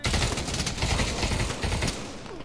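Steady, dense gunfire from the VR shooter game Pavlov, rapid shots and bursts running loud and continuous throughout with no voices.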